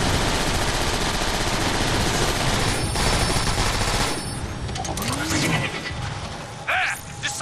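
Rapid video-game gunfire erupts in dense automatic bursts during a station assault, loud and continuous for several seconds before easing, with scattered shots and a sharp burst near the end.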